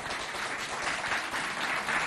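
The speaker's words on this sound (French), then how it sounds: "Applaudissez pour le CG de Doba." A school crowd at a student competition event in Doba claps in a dense, continuous burst of applause that holds at a steady level from start to finish.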